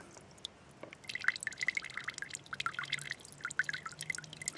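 A small pump sends a thin stream of water back through the cooling loop of a Peltier thermoelectric generator, giving a quiet, steady trickle with light dripping and splashing.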